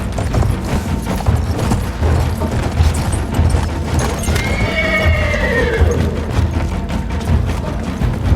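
Horses galloping and neighing in the video game Battlefield 1: steady thudding hoofbeats under a rumbling battle backdrop, with one loud, close whinny rising midway, plus faint distant booms.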